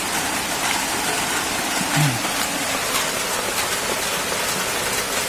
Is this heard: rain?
yes